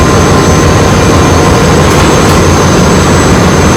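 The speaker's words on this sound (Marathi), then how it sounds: "ते घेण्यासाठी आपल्याकडे पंप, तर हे या पंपू आपण सेटलिंग टँकमधून फ्यूल ऑइल घेतो." A loud, steady mechanical roar with a constant high whine from a fuel oil pump running in a ship's purifier room, drawing from the settling tank, unbroken throughout.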